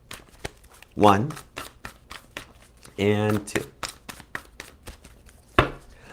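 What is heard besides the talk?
shuffling a tarot card deck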